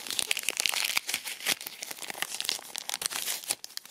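Paper packaging and tape being torn off a cardboard tube in a collectible toy unboxing: continuous close, loud crinkling and ripping with sharp tearing bursts, no talking.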